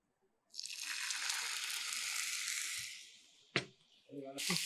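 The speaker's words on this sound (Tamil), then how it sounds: "கொஞ்சம் தண்ணி விட்டுருவோம்." Water is poured over jaggery in a cooking pan, a steady splashing pour that starts abruptly, runs a few seconds and then tapers off, followed by a short clatter and some talk.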